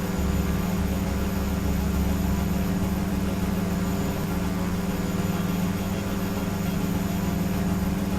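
Quest Kodiak turboprop in the X-Plane 11 flight simulator rolling out after landing, a steady, loud propeller-engine drone with a constant low hum throughout and no talk.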